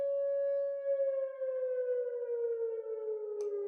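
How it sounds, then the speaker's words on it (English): A civil defense air raid siren sounds loud and steady during a youth baseball game in Alliance, Ohio, holding one long wailing tone that slowly sinks in pitch, with a brief sharp knock near the end. "We're pitching through the air raid siren."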